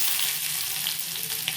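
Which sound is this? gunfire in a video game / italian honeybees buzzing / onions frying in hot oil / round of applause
onions frying in hot oil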